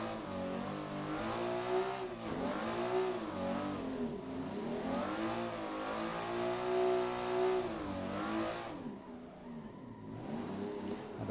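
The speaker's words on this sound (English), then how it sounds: "Oh, the drifting is going good." A car drifting in the Assetto Corsa racing simulator, its engine revving up and falling in repeated sweeping waves as the throttle is worked through slides, loud and continuous with no voices.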